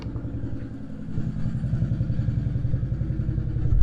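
A neighbor's old motorcycle fires up and settles into a rough, clattering mid-pitched idle that grows steadily louder, heard from some distance with no talk.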